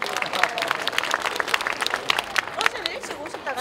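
A crowd applauds after a samulnori and electric string performance at the KTX stop ceremony at Mulgeum Station, with busy clapping continuing under a host's amplified voice.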